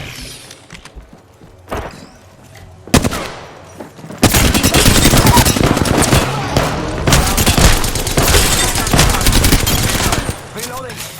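Video game gunfire erupts in dense, loud bursts of rapid shots, with sporadic single shots early on building into sustained automatic fire that dominates most of the stretch before tapering off near the end.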